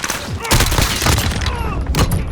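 Loud, dense gunfire in Call of Duty: Modern Warfare, with a run of rapid automatic shots and heavy thumps mixed with other game sounds.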